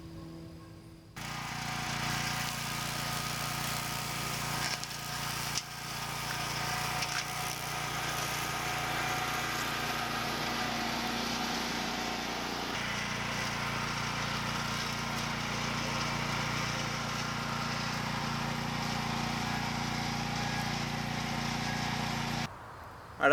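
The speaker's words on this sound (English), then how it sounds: "let's go get the DR mower and get that fired up and see if we can get a nice trail so we can walk" A DR walk-behind brush mower runs steadily while cutting a walking trail through growth, its engine drone constant and fairly close for the whole stretch, with a brief shift in tone partway through and no talking.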